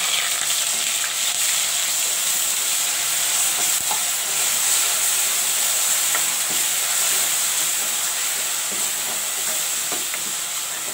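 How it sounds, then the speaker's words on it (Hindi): Ground onion paste frying in a pan for chana sabzi after mustard seeds and cumin, giving a steady, loud, continuous sizzle and hiss with faint stirring scrapes throughout, no talking. "हम प्याज को अच्छे से भून लेंगे"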